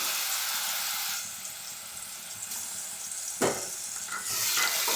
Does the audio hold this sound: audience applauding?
no